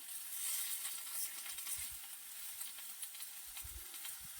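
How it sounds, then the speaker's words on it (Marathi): A wild vegetable fries in oil outdoors at a farm and is turned with a stick. It gives a soft, steady sizzling hiss with a few low knocks as the stick moves through the pan. "तेल टाकून घेतलंय आता भाजी पण टाकून घेत आहे"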